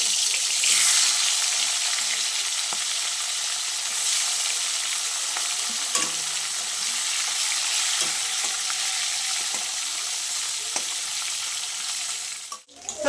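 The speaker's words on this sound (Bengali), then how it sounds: "বাকি মাছগুলো আমি ভেজে নেবো" Shol fish (snakehead) sizzling in hot oil in a pan, a steady dense crackling hiss that runs on unbroken and close for the whole stretch, with a brief clatter near the end.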